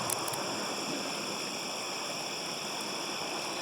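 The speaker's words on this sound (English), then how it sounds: "some water going through that stream." Water runs through a stream in a steady broadband rush, continuous and even throughout, with no voices over it.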